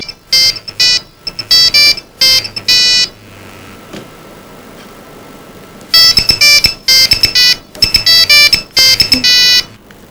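A loud electronic phone ringtone plays in repeated melodic bursts, pausing briefly in the middle before starting up again.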